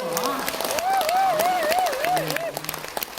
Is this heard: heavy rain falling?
no